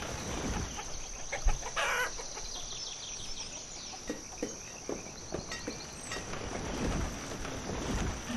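Chickens cluck in the video game Banished, a series of short, fairly faint clucks spread across the clip over a soft ambient bed with insect-like chirping.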